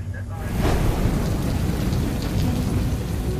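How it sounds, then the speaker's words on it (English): Heavy tropical rain pours steadily in Guam, with a deep rumble of thunder rolling underneath the constant hiss of falling water. "Rain has been hitting Guam on and off all day."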